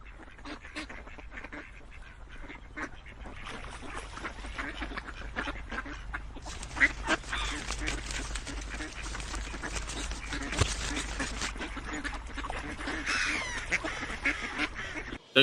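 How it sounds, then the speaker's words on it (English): Ducks quacking repeatedly over a rustling outdoor background, calls coming in irregular bursts at moderate distance, with occasional honk-like cries. "I can hear the quacking."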